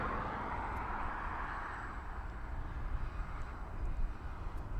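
A jet airliner arriving at East Midlands Airport, heard as a steady, broad engine roar that holds at a distance and swells slightly toward the end, with no talk over it.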